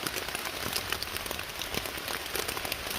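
Steady rain patters continuously on surfaces at a riverside camp on the Virginia section of the Appalachian Trail, a dense, even hiss of drops with no other sounds.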